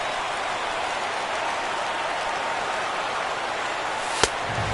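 Stadium crowd of over 39,000 cheering in the MLB The Show 17 baseball video game, a dense, steady roar throughout, broken by one sharp crack near the end.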